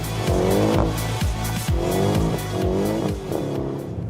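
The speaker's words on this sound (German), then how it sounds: "Also Driften ist natürlich das eine, aber diesen Mercedes kann man auch sehr, sehr präzise an so eine Kurve hinziehen." A Mercedes car drifting through a corner, with the engine revving up and down in repeated surges and tires squealing, loud and close, with no talk.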